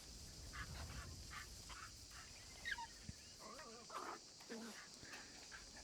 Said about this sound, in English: here's a black Akita. Here's a little puppy.